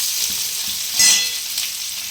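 Chopped onions fry in hot oil for a Bengali potato and cauliflower dish, giving a steady bright sizzle with a brief louder flare near the middle, close and without talk.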